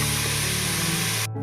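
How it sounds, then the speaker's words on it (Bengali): Chopped watermelon rind frying with turmeric in a hot pan gives a loud, steady, hissing sizzle that cuts off abruptly near the end. "সমস্ত তরমুজের যে ছালগুলো আমি ছিঁড়ে রেখেছি, কুচিয়ে রেখেছি, সেটা এর মধ্যে দিয়ে এবার একটু কষিয়ে নেব।"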